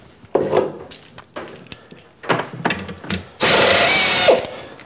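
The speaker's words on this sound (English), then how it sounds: "next is a slightly larger drill to open the hole up a little bit" A slightly larger drill opens up an existing hole in a metal toolpost clamp part in a home machine shop. Scattered clanks and knocks lead into a loud, steady grinding whir lasting about a second, then it stops.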